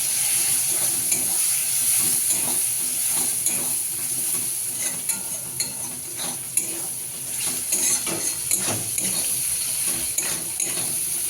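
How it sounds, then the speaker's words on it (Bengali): Vegetables sizzle loudly in a hot pan with Kashmiri chili powder as a spoon stirs and scrapes against the metal, the steady frying hiss close and constant throughout, with no speech. "একটু কাশ্মীরি লঙ্কার গুঁড়ো দিয়ে দেবো, দিয়ে এগুলোকে সাতলাবো।"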